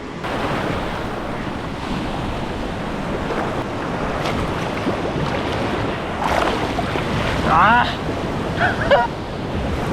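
Surf rolls and washes in a constant roar at a clear beach in Chennai, with wind buffeting the microphone; faint voices rise briefly near the end.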